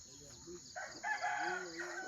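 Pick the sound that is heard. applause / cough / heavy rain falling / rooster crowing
rooster crowing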